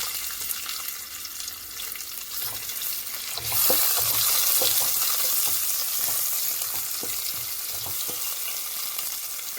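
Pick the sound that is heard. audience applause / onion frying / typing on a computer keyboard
onion frying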